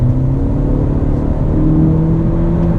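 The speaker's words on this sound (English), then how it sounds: "We'll go ahead and get on the gas a little bit." A 2019 Honda Civic Sport Touring Hatchback accelerates in drive mode, its engine drone rising steadily in pitch with a continuous loud rumble and whir throughout.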